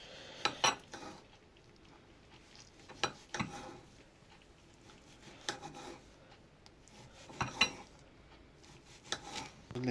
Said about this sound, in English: I'm going to turn off the flame and go back to the steak, but I need to slice them